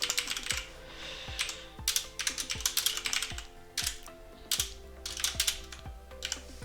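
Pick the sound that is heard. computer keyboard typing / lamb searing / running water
computer keyboard typing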